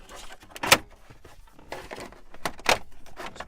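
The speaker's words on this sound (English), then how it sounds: "Sometimes it helps to open a little door here." A small access door in the dashboard of a Chevy GM truck pops open with sharp plastic clicks and light rattles, scattered across a few seconds at close range, with no talking.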